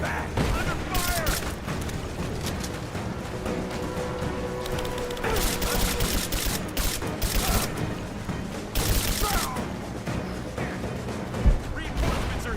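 Heavy gunfire and suppression fire in the video game Rise of the Tomb Raider, a dense continuous fusillade with booming shots and bursts, while soldiers shout orders over the battle throughout.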